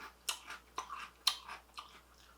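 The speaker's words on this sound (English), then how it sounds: "the texture is crunchier than the Apple Jacks. But not as crunchy as the Frosted Flakes" Crunchy glazed donut-shaped cereal is chewed close to the mic in four or five sharp, crackling bites over about two seconds, with quiet pauses between them.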